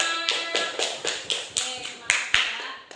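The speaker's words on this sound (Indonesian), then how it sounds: "Tepuk tangan dulu kelompok 5." A classroom claps for group 5 during a peer-teaching session, with about ten separate sharp claps in an uneven rhythm, close and fairly loud.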